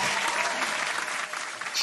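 A studio audience claps, a short burst of applause at moderate volume that fades, followed by a sudden thump at the very end.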